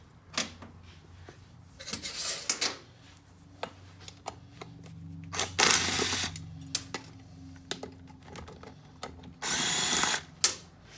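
Wrench work on bolts of a 1977 Honda CT70 minibike: short metallic ratcheting and clicking bursts in uneven clusters, with a couple of longer louder grinding spells, close by and with no talk.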